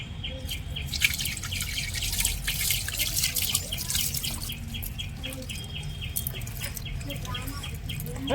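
Water pours and trickles out of a fishing net holding live fish, with steady splashing and dripping close by, faint bird calls in the background and occasional voices.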